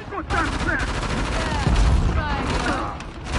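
Video game gunfire during combat in Uncharted: The Lost Legacy, with a steady barrage of shots and booms under a dense mix of game music and effects, continuous and loud throughout.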